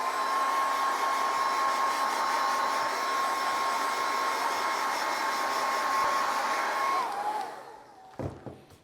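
Hair dryer blowing on a wet photographic print in a darkroom, a steady loud whooshing drone close by for about seven seconds before switching off, followed by a couple of soft handling knocks.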